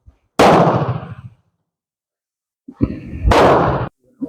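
Two sharp reports from a Beretta Olympia .22 caliber training rifle ring out a couple of seconds apart, each a loud close crack with a brief decaying tail, separated by near silence.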